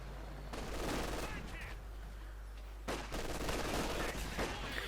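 Tank and infantry gunfire in Company of Heroes 2, with a Cromwell tank firing amid bursts of rifle and machine-gun fire in two dense, sustained volleys, loud and continuous, with a low hum beneath.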